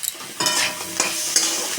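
Crabs frying in a pan with ground coriander and spices, stirred with a few scraping strokes over a constant hiss of sizzling oil.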